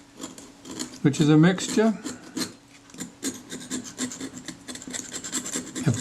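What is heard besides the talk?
scalpel blade scraping corrosion and adhesive off aluminium camera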